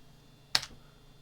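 A single quick keypress on a computer keyboard, a short crisp click standing alone against a quiet room.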